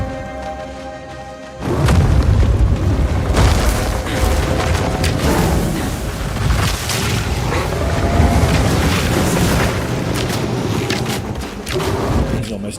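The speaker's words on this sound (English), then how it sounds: "Surely the explosions from these will still work though." Heavy explosive booms from combat in the action RPG Path of Exile 2, a dense run of loud bursts and thuds following a quieter opening, continuing almost without pause.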